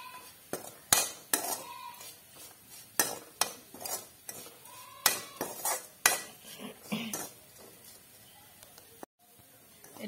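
Metal utensil clinks and scrapes against a pan while radish pieces are stirred in oil with the gas turned off, a series of sharp knocks and clatters in irregular bursts, close and fairly loud, no talking.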